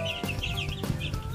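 Chickens cluck steadily and close by at a small backyard poultry setup of 45-day broilers, overlapping calls forming a busy, continuous flock chatter with no talking.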